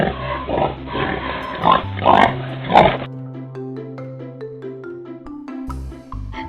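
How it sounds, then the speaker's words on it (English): A pig oinks in three short grunts, close and fairly loud, then gives way to a bright toy-like musical jingle. "can you oink like a pig?"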